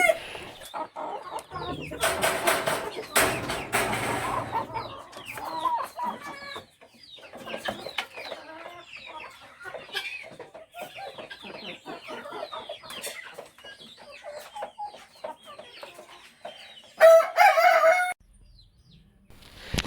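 Gramasree chickens cluck steadily throughout, with a rooster crowing partway through and another loud crow near the end, busy and close.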